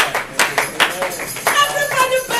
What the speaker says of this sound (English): Why don't you clap for Jesus?